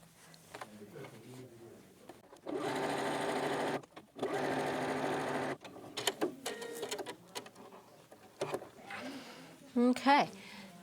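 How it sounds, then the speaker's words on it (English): Sewing machine stitching the side seam of a fabric tote bag: two steady bursts of needle-driven whirring, each a second or two long, then softer handling noises and brief spoken remarks nearby. "We're going to sew the other side."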